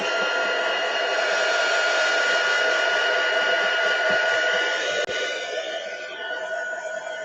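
A hair dryer blowing steadily on craft work, a loud, close, continuous whooshing roar that holds evenly for several seconds, then dips and softens slightly after a brief knock.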